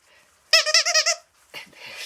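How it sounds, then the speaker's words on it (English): A puppy plays with a squeaky toy, producing a close, rapid run of about six loud squeaks, followed by softer rustling and a brief muffled squeak. "We got some squeaky toys here."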